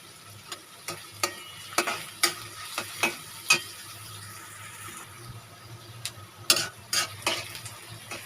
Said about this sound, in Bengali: তো আমি প্রথমে এখন পেঁয়াজটা ভেজে নিচ্ছি।